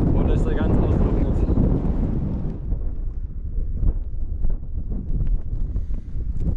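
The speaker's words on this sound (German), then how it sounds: "es ist gerade sehr windig" Strong wind buffets the microphone with loud, rough roaring gusts outdoors near a dried-out lake, easing somewhat partway through into lighter, uneven blustering.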